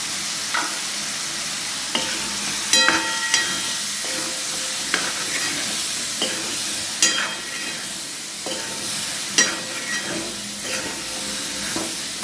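Star gooseberry pickle with chili powder being stirred in a hot pan, with steady frying sizzle and hiss and repeated clinks and scrapes of the spoon against the pan throughout.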